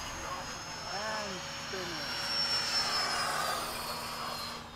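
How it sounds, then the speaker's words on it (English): An FMS F/A-18 RC model jet flies past at an airfield with Freewing F-4 models around, its steady ducted-fan whine rising and falling as it passes, loud and continuous under the voices of people talking nearby. "Man, that jet is fast, Ray."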